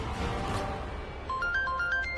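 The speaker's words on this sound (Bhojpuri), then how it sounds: "अरे केकर फोन आ रहल बा?" A short electronic ringtone melody starts partway through, quiet and beeping in a quick repeating pattern after a brief stretch of background noise.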